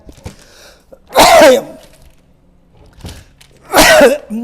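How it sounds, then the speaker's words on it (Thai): A person sneezes twice at close range in a quiet room, each sharp burst preceded by a short intake of breath, with a pause of a couple of seconds between them. "จามแล้ว"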